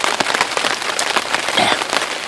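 Heavy rain pounds steadily on tarps and foliage at a wet, windy overnight hammock camp, a dense continuous patter filling the scene with no voices.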